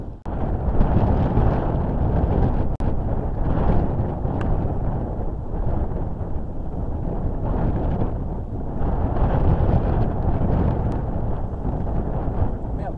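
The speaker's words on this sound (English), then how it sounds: "Because the wind behind me is quite strong." Strong wind gusting across an open golf course, a steady loud rumbling roar with slow swells that buffets the microphone throughout, with no voices.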